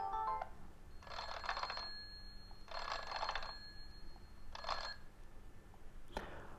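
An alarm ringtone plays from a Sonoff NS Panel Pro smart home panel, with three bursts of trilling electronic ringing a little over a second each, separated by short gaps and ending in a click, close and fairly quiet.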